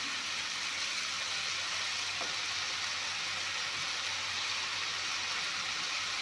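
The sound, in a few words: hot water poured into frying green pea dal curry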